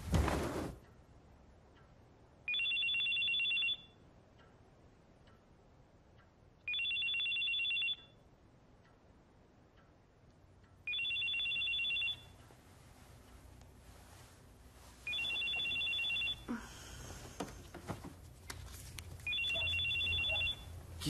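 A telephone rings at 3 a.m. in a quiet room, five evenly spaced electronic ring bursts about four seconds apart, each lasting roughly a second, fairly near against a hushed background.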